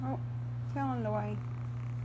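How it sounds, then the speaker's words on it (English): A kitten purrs steadily while being brushed, a low continuous rumble close by, with a voice speaking softly over it. "Oh, good purr. Good purr."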